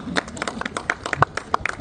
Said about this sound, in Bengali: সবাই একটু হাততালি দেই প্লিজ